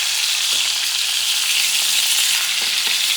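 Pork chops frying steadily in a hot pan, a dense, constant sizzle throughout with a few faint clicks of handling, no talking.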